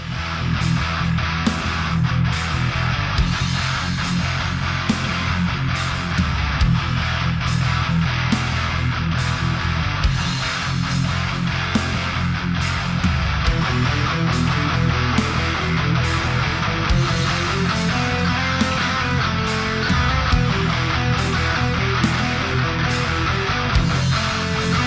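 Dense, heavily distorted metal guitar played through a Grindstein HM-2 style distortion plugin, chugging riffs over regular programmed drums, loud and continuous with no talk.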